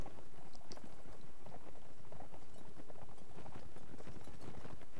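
Horse hooves gallop in the video game Mount & Blade Warband as a continuous rapid clopping, fairly faint, blended into busy battlefield noise with no clear talking.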